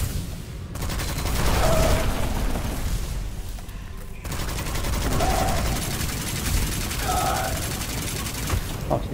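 Gunfire in the video game Witchfire, dense sustained bursts of rapid shots with short gaps, loud and close, with faint mechanical clicks between volleys.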